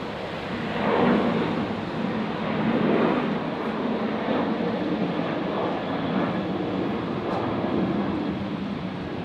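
A Qantas aircraft lands on runway 01 right at Brisbane airport, a broad, steady jet roar swelling and easing slightly, heard from a distance without any voices.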